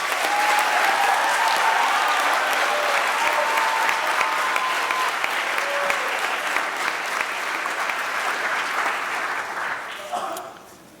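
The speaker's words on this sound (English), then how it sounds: "Students, please rise to receive our applause." Audience applauding at a 2019 NCSSM awards ceremony as students rise to be recognized, loud sustained clapping from a large crowd that holds steady and then tapers off near the end.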